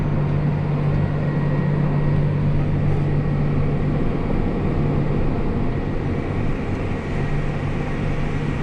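Tractor driving along the end rows of a field during corn planting in Darke County, Ohio: a loud, steady engine drone that stays constant throughout.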